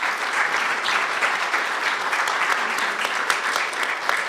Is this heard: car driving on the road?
no